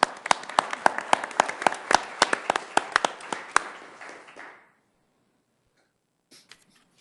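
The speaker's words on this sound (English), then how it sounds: "Let's give Amy and the team a round of applause." A modest group at a Sioux Falls city council meeting gives a round of applause: distinct, scattered hand claps for several seconds that fade out into silence, then a couple of brief late claps.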